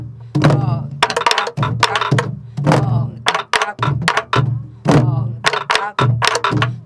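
A Korean buk drum is played in a traditional pansori rhythm lesson, with a steady pattern of loud, close thunking strokes in repeating groups. A voice chants the rhythm syllables alongside, imitating the drum strokes.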